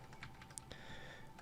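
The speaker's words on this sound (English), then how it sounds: "we're going to go ahead and type in the command /give" A short run of keystrokes as a command is typed on a computer keyboard for Minecraft Java Edition, quick light clicks close up, a few taps in under a second.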